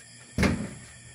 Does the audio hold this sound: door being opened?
yes